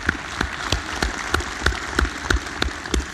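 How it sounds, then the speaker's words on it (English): Rhythmic clapping at an anniversary celebration, strong regular beats roughly every third of a second over a softer bed of scattered claps, moderately loud. "A round of applause."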